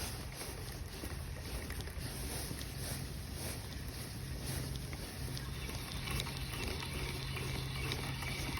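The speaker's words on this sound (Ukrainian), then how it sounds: "хтось заводить мотор, ще хтось вирішив вийти на воду" A boat motor runs faintly in the distance on a foggy lake, a low steady drone mixed with soft wind noise and no nearby voices.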